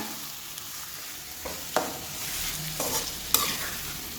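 Semiya kichadi stirred in a pan, a low sizzle of frying under a few sharp scraping strokes of the spoon, close up with no talk.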